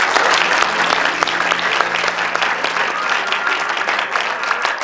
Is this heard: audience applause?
yes